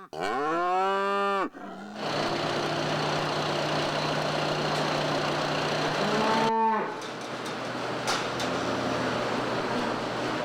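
Dairy cattle on a farm in the Gapençais area give two long, loud, close moos, one at the start and a second midway, over a steady engine-like drone that runs throughout.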